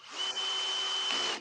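A power drill drives screws into the frame rails of a RatRig V-Core 3 printer in one steady whine that lasts about a second and a half, fairly quiet with a faint high tone.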